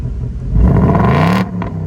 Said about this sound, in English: And you can totally tell that it's louder